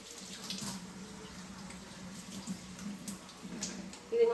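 Water runs from a tap while a vessel is washed, a soft steady stream with faint splashes and clinks, low in level throughout.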